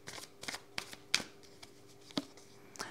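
Tarot cards are shuffled and drawn in a quiet room, a series of soft, brief flicks and riffles spaced irregularly, close but faint, with no talking.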